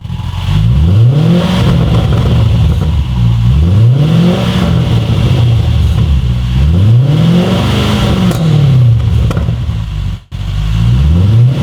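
Jaguar XF V8 with a switchable aftermarket exhaust set to quiet mode, driven on the road, revving up and easing off in repeated rising-and-falling surges, loud and steady throughout with a brief dip near the end.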